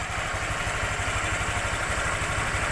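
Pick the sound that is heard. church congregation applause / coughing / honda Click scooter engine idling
honda Click scooter engine idling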